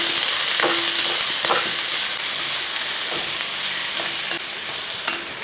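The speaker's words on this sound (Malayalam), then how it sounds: "സവോളയും കൂടെ ഇളക്കി ഇതെല്ലാം കൂടെ ഇളക്കി കൊടുക്കും" Chopped onions fry in a pan for chicken curry, a loud, continuous hiss of sizzling oil broken by a few soft strokes of a stirring spoon.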